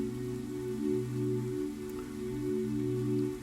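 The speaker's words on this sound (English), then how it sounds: "Rain falling to earth revitalizes things and causes them to grow." Steady rain falls throughout, a soft continuous patter over an even tonal hum, with no voices.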